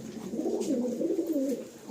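Pigeons in a loft give a continuous low, throaty coo, close and moderately loud, with faint background noise.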